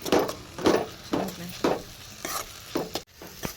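Chillies frying in a pan for gobi manchurian, rhythmic stirring scrapes repeating about every half second over a soft sizzle, close and fairly loud.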